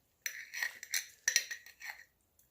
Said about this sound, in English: I'm gonna go ahead and get a fork and get some of this good kraut in here.